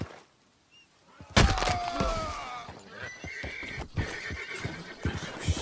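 A horse in Red Dead Redemption 2 gives a loud, sharp neigh after a quiet opening, followed by clip-clopping hooves and scattered thuds close by.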